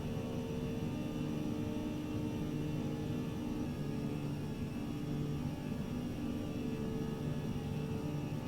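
Steady, even drone of a KC-135R Stratotanker's jet engines cruising in flight, heard from inside in Microsoft Flight Simulator, a constant moderate rumble and whine with no other sounds.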